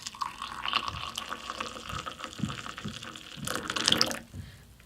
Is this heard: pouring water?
yes